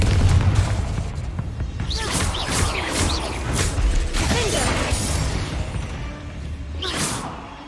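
The Confringo fire spell in Hogwarts Legacy sets off repeated booming explosions with whooshes, crashes and mechanical rattles, dense and continuous through the whole stretch.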